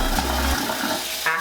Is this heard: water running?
yes